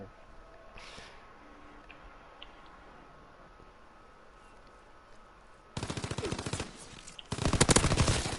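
Automatic gunfire in Call of Duty WWII on PS4: two loud close bursts in the final seconds, the second the strongest, after a stretch of quiet game ambience.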